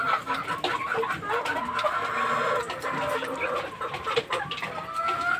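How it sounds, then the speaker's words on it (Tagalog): Fighting-cock chickens with their chicks on a farm, clucking and peeping in a steady, busy chatter of short calls at close range, with no talk over them. "Ito yung mga sisiw niya."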